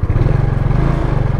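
A restored Yamaha Ego S motorcycle engine runs at high RPM close by, a loud, rapid pulsing buzz with a steady rattle that holds at constant revs.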